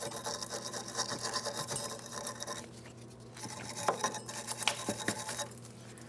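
A wire brush scrubs a brake hose bracket on a 2007-2014 Ford Edge, giving quiet, close, scratchy strokes with a few sharper metallic scrapes and clicks mixed in.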